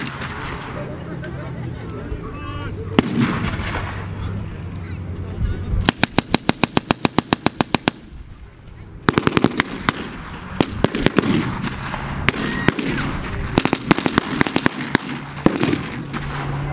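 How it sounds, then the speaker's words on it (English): A battle reenactment show with armoured vehicles brings a rapid string of blank machine-gun fire, then scattered rifle shots and sharp pyrotechnic bangs, loud and close over outdoor crowd noise, with a voice heard at times. "Armoured vehicle and fire now being exchanged between the two sides."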